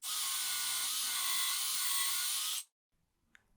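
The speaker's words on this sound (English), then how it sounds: "With everything locked down, I can start drilling my dowel holes" A power drill bores dowel holes into wood with a steady high whine for a couple of seconds, then stops abruptly, leaving near silence and a faint click.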